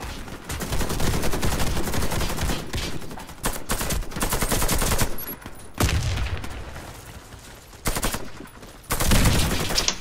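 Repeated bursts of rapid AK-103 gunfire in the game Warface crackle throughout, loud and close, separated by short pauses, with a few heavier booming shots mixed in.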